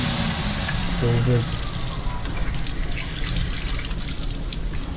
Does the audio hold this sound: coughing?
no